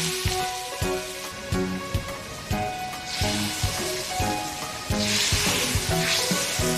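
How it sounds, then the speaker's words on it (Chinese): A cleaned, scored river fish fries in hot oil until golden on both sides, with a loud continuous sizzle and spatter close by, overlaid by soft background music and no speech. "河鱼宰杀，改刀，热油煎至两面金黄"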